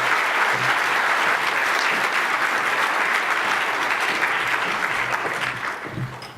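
Sustained audience applause fills a conference hall at a youth summit as a guest is welcomed to the stage, loud and steady throughout before easing slightly at the end.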